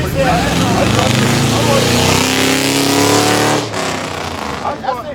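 Trucks passing outside, a loud continuous roar of heavy vehicles close by that eases off near the end, with people talking underneath.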